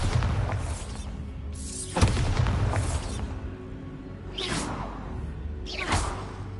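Bombarda spell blasts in Hogwarts Legacy: several swooshing bursts, each with a booming impact, loud and close over a rumbling game background, about four in quick succession.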